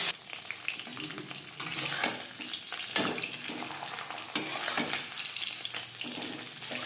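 Shing fish frying in hot oil in a pan, a fairly quiet, continuous crackling sizzle with occasional louder pops and spatter bursts, no voices.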